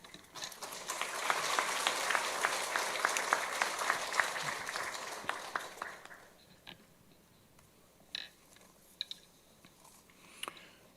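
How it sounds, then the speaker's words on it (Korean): A church congregation claps warmly as an elderly retired pastor comes forward for a Sunday service sermon: dense, steady applause for about six seconds, then fading to a few scattered claps and light room noise. "따뜻한 박수로 존경을 담은 박수로 맞아주시기 바랍니다"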